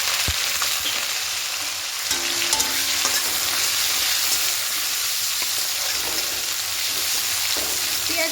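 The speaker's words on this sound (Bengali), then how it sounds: "পেঁয়াজটা হালকা একটু ভেজে নেব।" Onion frying in hot oil with bay leaves, green chillies and five-spice tempering, a steady close sizzle with occasional stirring scrapes throughout.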